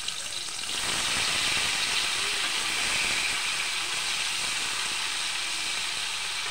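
Dried fish, rubbed with salt and turmeric, frying in hot oil: a steady, loud, close sizzle and hiss fills the whole stretch, with no voices.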